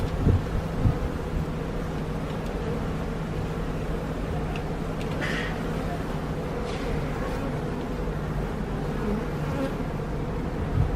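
Honeybees buzz steadily around an open hive outdoors, a continuous droning hum throughout with light wind and faint talk in the background.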